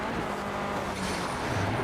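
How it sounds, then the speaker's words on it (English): KTM X-Bow race car engine in Project Cars burbles and drones as the throttle is lifted on the Brannochbrae track, a continuous low rumble with faint crackle, steady and close. "You hear that noise from the engine when I'm lifting."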